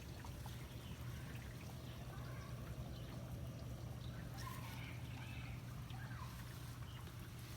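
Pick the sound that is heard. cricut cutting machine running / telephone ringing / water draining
water draining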